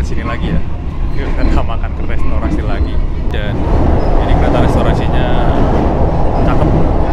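Inside the restaurant car of the moving Blambangan Express train: a steady low rumble of the carriage in motion, with clatter and murmured voices in the car.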